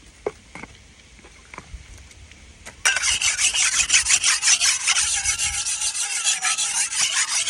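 A sugarcane knife blade is ground on a coarse whetstone, heard as a steady, close, repetitive rasping scrape that begins after a few faint light taps and continues loudly back and forth without pause.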